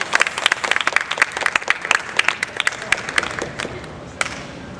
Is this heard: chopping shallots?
no